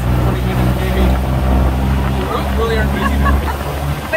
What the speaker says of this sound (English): This is the craziest tuk-tuk ride ever.